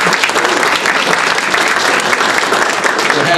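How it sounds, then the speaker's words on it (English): Loud, dense applause from a community gathering thanking a learning center, many hands clapping continuously and evenly close by, a thick unbroken wash of claps from start to finish. "Let's give them a big round of applause."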